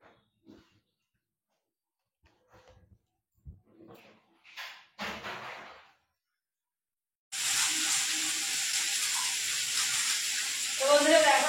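Hot oil in a kadai starts sizzling loudly and steadily for fish frying, following quiet handling noises and brief faint voices.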